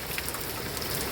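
Heavy rain drums steadily on a houseboat during a storm, a dense, continuous hiss of water with scattered louder drops pattering close by.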